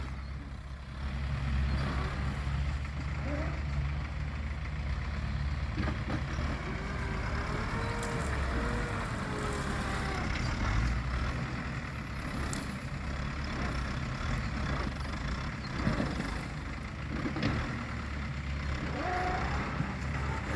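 An old-model work vehicle, driven smoothly while clearing forest and ploughing a plantation, gives a steady, continuous engine drone at close range for about twenty seconds without a break.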